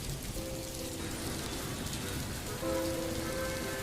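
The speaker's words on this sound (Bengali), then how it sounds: "আজও কফি শপে বৃষ্টি পড়ছে।" Steady rain falling on a surface as an ambient backdrop, an even wash of drops with faint tonal hum underneath, continuous and moderately soft.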